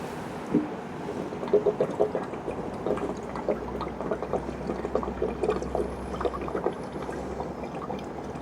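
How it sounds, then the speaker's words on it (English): Fuel additive glugs and gurgles as it is poured from a bottle into a car's fuel tank, a close, uneven liquid trickle with small splashes and outdoor background hum. "So I'm just going to bung the whole lot in the fuel tank basically"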